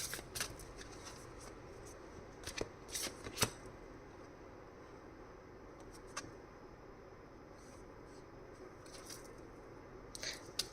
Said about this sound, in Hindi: मैं सारे ही कार्ड्स निकाल रही हूँ एक साथ